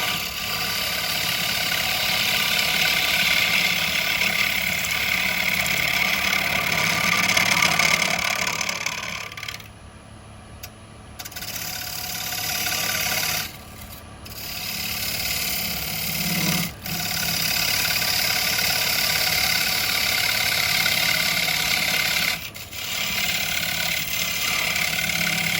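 A wood lathe spinning at about 1000 RPM while a carbide tool turns a Christmas bauble gives a steady, loud mechanical drone and whir, broken by a few brief pauses and dips.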